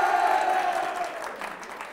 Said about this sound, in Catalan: També un aplaudiment.